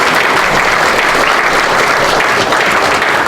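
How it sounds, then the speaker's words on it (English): Dense, continuous applause from a large audience at a St Patrick's Day celebration, loud and steady throughout with no speech over it. "I think that deserves a round of applause"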